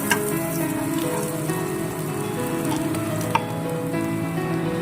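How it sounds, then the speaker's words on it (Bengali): Chopped garlic sizzling in hot white oil in a pan, a close, dense, continuous frying hiss with faint crackles and no talk. "তেলটাও গরম হয়ে গেছে, দিয়ে দিচ্ছি চপ করে রাখা রসুনের কিমাগুলো"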